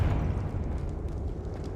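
A Confringo fire explosion spell in the game Hogwarts Legacy lands with a deep, rumbling blast that swells at once and rolls on as a heavy, fiery boom, loud and close.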